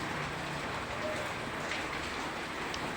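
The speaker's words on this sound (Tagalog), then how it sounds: "Ang lakas ng ulan ngayon." Heavy rain pours steadily, a dense, constant hiss of drops drumming on surfaces.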